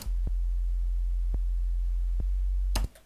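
A deep, steady 808 sub-bass sine tone drones alone at constant level, with a few faint clicks, then cuts off near the end.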